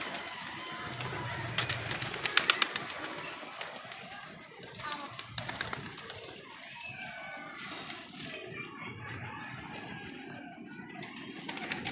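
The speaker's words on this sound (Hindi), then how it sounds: "ये आ रहा है कबूतर।" Pigeons cooing in the background, soft low coos recurring every few seconds amid faint bird chatter and ambient noise, distant and quiet.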